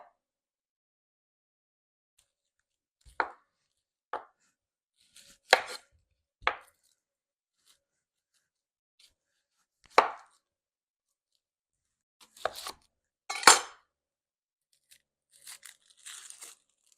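An onion chopped with a knife on a board, sparse sharp chops in a quiet room, single cuts and short clusters spaced seconds apart, close and fairly crisp, with no talk.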